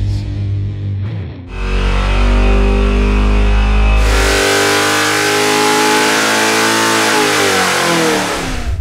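A GM Holden 308 V8 on an engine dyno, revving hard from idle to a loud, sustained high-rpm roar that climbs and holds, close and alone.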